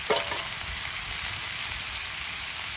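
Mutton dropped into spiced masala that has already been well fried, giving a sharp burst of sizzling at first, then a steady, loud frying hiss with no talk.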